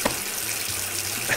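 A tap pours water in the Hide The Corpse VR game, a steady, fairly loud hiss and splash of running water with no voices.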